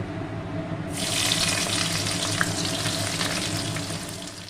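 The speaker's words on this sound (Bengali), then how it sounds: "এবার আমি পেঁয়াজটা ভেজে নেব।" Chopped onions frying in hot oil for a Bengali mutton kosha, a steady close sizzle that swells after the first second and holds on without speech, with a faint watery crackle throughout.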